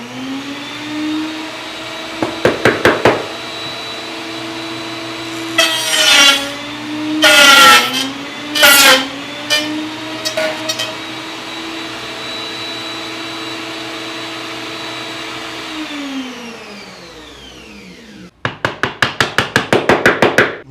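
A wood router cuts wood along a joinery jig, a loud sustained whine broken by harsh bursts of cutting, spinning down near the end before a rapid rattling burst of machining.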